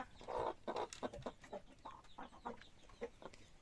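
Several chickens clucking in short, irregular bursts nearby, fairly quiet, with no talking.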